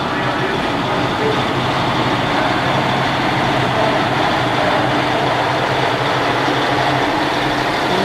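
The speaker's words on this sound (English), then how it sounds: "Retro Ford flatbed truck." A retro Ford flatbed truck rolling past in a classic vintage truck parade, its engine a steady low rumble close by, loud and unbroken with crowd noise beneath.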